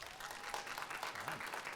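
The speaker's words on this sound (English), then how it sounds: "applause if you've never done cocaine" Comedy club audience applauding during a stand-up set, a moderate, steady burst of many hands clapping at middle distance, with faint crowd murmur and a brief voice underneath.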